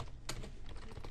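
Computer keyboard keys tapped while code is typed, a steady run of soft, close clicks with one sharper, louder keystroke near the start.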